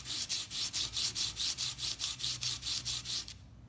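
Charcoal pencil tip scraped against an abrasive to taper its edge: about fifteen steady, evenly spaced rasping strokes, close and fairly loud, with no voices.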